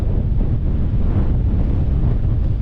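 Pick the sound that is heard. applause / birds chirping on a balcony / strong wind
strong wind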